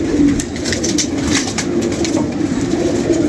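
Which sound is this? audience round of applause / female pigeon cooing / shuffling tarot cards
female pigeon cooing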